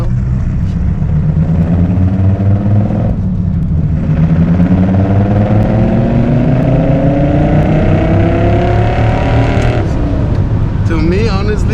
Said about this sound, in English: Hit full throttle right now.